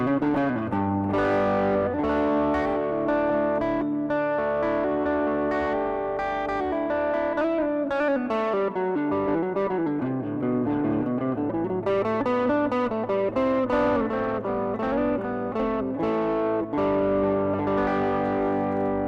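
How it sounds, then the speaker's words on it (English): Distorted electric guitar playing through effects, with sustained chords and busy melodic lines, loud and steady throughout with no voices. "Can you hear my guitar, I wonder?"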